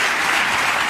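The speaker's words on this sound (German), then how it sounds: "Wieso wird da geklatscht?" Studio audience at a televised FIFA-themed comedy show breaks into steady, dense clapping, loud and close, filling the whole moment without any voices over it.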